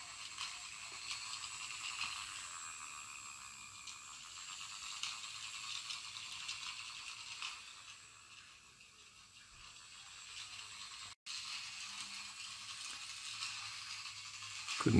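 A mini toy train set with no carriages runs around its track, powered by a vape LiPo battery through a large resistor. It gives off a close, steady mechanical whirring and clicking that continues throughout with no talking.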